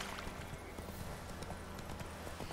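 Horse hooves clip-clop in The Witcher 3 game, a steady run of light, fairly quick hoof beats at moderate distance over a faint ambient background.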